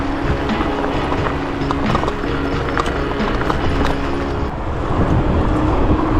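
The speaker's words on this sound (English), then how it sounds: "So let's see if we can keep up with the horse." Horse hooves clip-clop along the G2G Kissing Bridge Trail in a steady rhythm, mixed with constant wind and tyre rumble from a moving eBike, fairly loud and close throughout.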